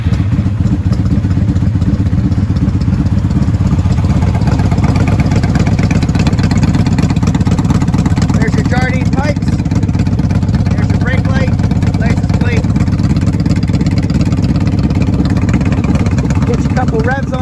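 A 1982 or 1995 Honda Magna motorcycle engine with 14,000 miles turns over and settles into a steady, loud idle that rumbles continuously close by, with some clattering mechanical noise.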